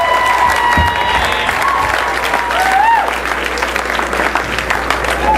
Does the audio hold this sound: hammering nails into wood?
no